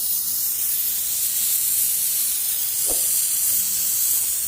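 A 2-litre foam car-wash sprayer blowing foam onto a car in a steady, close, loud hiss that holds with little change, with one faint knock partway through.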